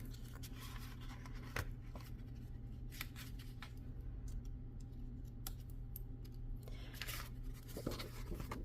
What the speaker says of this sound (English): I cut them out like that.